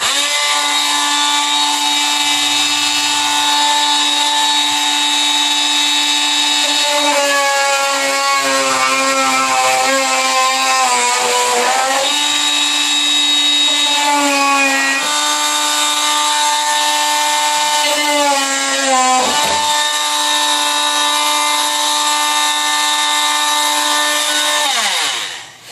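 A power tool whines loudly as it slices through the fender of a 2004 Subaru WRX STi to make room for flares, a steady harmonic cutting drone with pitch dips as the blade bites, running nearly continuously without talk.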